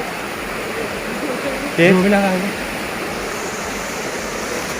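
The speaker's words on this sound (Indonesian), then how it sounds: "Kita udah sampai di air terjunnya, di sungai ini ya." A waterfall on the Sungai Putih river makes a steady, full rushing roar throughout, with one short spoken word briefly rising above the constant water noise.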